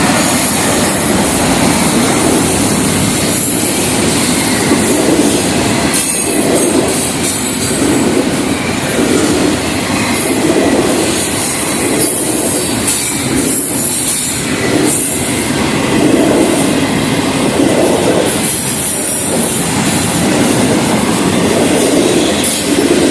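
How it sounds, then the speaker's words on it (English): An FEC freight train rolls past on the second track, a loud, continuous roar of wheels and rail clatter with squealing tones, sustained close by for the whole stretch with no talking. "Much of a long train though."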